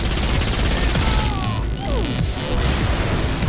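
Dense gunfire and crashing impacts in the Saints Row IV video game: a loud, continuous barrage of shots and smashes with sweeping tones passing over it, heard without talk.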